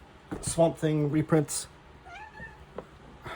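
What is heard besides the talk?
cat meowing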